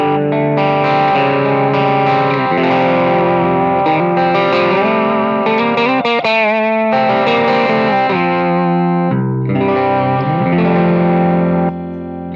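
Electric guitar through an NRG Effects loop combining a purrer and a humper mid-range boost: loud, continuous overdriven playing with sustained chords and melodic lines, no talking.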